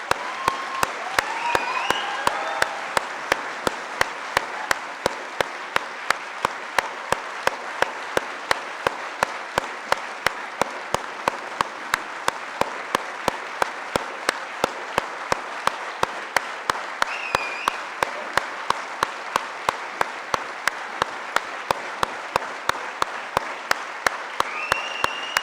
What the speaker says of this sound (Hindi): अरे भाई अवार्डीज के लिए जोरदार तालियां।